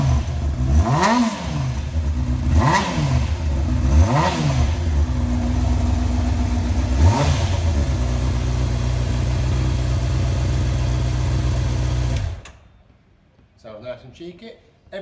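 A 2009 Honda CBR600RR limited edition motorcycle with a Leovinci aftermarket exhaust, revved close up in about four sharp throttle blips over a steady idle, then cut off abruptly near the end.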